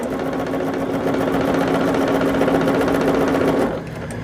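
A sewing machine stitching quilt fabric runs with a steady, close, buzzing whir, then slows and stops just before the end.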